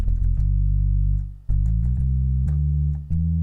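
A rare Cordovox CDX organ, the Moog-built White Elephant, plays single sustained mono bass notes from its divider-based bass section. Deep, steady tones change pitch several times with short gaps, played alone and close up, with no talking.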